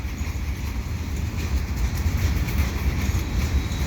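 A CN freight train with bathtub gondolas rumbles steadily past nearby, a continuous low roar with faint rhythmic clacking of wagons, no voices.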